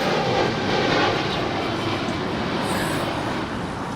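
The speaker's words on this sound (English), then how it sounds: "This is Spirit 953 departing to Detroit. It's a 1-year-old Airbus A320 Neo." A year-old Spirit Airlines Airbus A320neo departing Los Angeles, its jet engines giving off a loud, broad, steady roar that fades slightly toward the end, with no voices.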